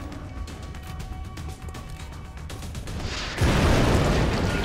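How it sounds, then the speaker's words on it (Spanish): A fuel pump blowing up in the video game XCOM: Enemy Unknown: a sudden loud, dense burst of explosive noise erupts about two-thirds in and roars on to the end, following steadier rumbling game sound. "Vamos a intentar contener el área de la explosión lo máximo posible."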